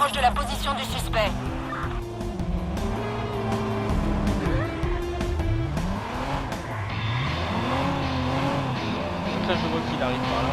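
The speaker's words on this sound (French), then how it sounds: "Une voiture de patrouille s'approche de la position du suspect." A police patrol car in the Watch Dogs video game moves in with a wailing siren that rises and falls, heard loud over a steady engine and game ambience.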